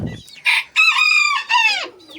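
Bantam chickens cluck and squawk close by while eating roti, in a few loud, drawn-out bursts with short pauses between them. No one talks.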